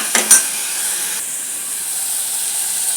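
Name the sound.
frying curry with tomatoes and coriander in a pan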